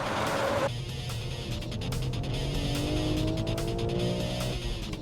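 A high-powered race car on track slides under too much power, its engine roaring and rising in pitch, with tires squealing as the rear steps out, loud and close throughout.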